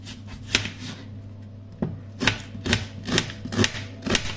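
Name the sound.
chopping onions into tiny slices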